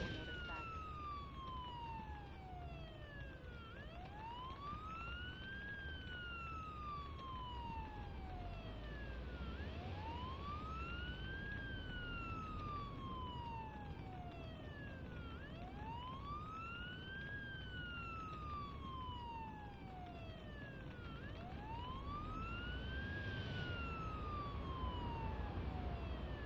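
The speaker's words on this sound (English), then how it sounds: "Use the siren as needed." A video game ambulance siren wails, sweeping up and down in long, regular cycles, loud and continuous over a low engine rumble.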